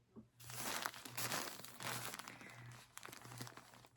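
A plastic bag holding an old skein of Red Heart Super Saver yarn in hot red crinkles and rustles in several loud, close bursts, alongside a faint low periodic hum.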